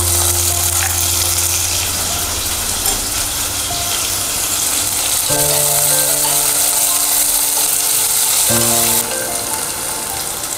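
Onions fry in oil with cumin and mustard seeds for an Andhra chow chow curry, making a loud, steady, close sizzle with a low background hum and no talking.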